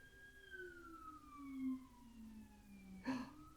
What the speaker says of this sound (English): They have the weirdest sirens.